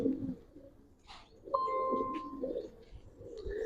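Low, rolling coos from a male giribaz pigeon with black plumage repeat through a quiet loft, with a thin steady whistle-like tone briefly heard alongside.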